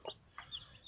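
A broody hen sitting on a clutch of hatching eggs gives a few soft, short clucks, close but quiet in a still room.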